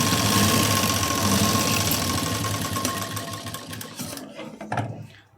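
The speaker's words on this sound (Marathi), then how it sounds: "आता इथे मी एक कडेला शिलाई देते." A sewing machine runs steadily at close range, stitching along the edge of a joined seam, then stops near the end, leaving a few brief handling knocks.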